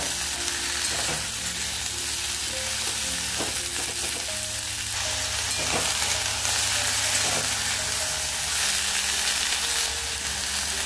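Green beans frying in oil with turmeric, a loud, unbroken sizzle with occasional spatula scrapes and stirring knocks, steady and close the whole time.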